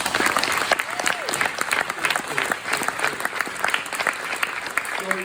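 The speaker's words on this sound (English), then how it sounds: "Let's give her a round of applause." A crowd at a town meeting gives a lively round of applause, close, crisp clapping with scattered individual hand claps standing out and a few voices and cheers mixed in, steady for several seconds.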